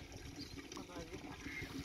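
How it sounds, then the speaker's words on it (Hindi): A bucket fills with water, a faint steady pouring and trickling close by, partly masked by someone talking over it. "वो बाल्टी भी भर रहे हैं ज़रा मजीद पानी की ना।"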